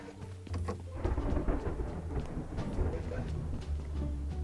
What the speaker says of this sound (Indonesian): Wah, mau hujan nih.